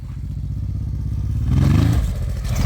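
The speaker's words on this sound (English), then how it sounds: "So jumped the log on my bike." A dirt bike engine drones steadily, then rises in a brief rev and clatter as the bike jumps off a log on a rugged adventure ride trail, close and loud with no talk.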